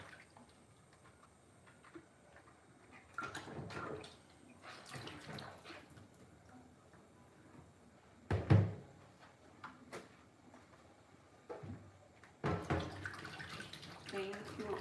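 Tapioca is washed by hand in water, with intermittent splashing and sloshing, a louder splash midway and some handling knocks, under quiet talk.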